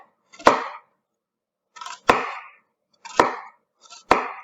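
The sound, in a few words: knife slicing vegetable on chopping board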